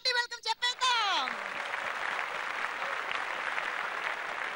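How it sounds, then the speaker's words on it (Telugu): A short burst of voice gives way to steady applause from an audience at a sangeet function, sustained and moderately loud for the remaining seconds. "ఒకసారి గట్టిగా చప్పట్లు కొడుతూ మన స్టార్స్ అందరికి హార్టీ వెల్కమ్ చెప్పేద్దాం"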